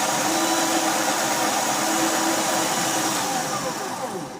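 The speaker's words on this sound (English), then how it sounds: "now I'm going to finish it up with sandpaper" Metal security pin worked against sandpaper, a loud continuous abrasive rasp close by that holds steady and then fades toward the end, no speech.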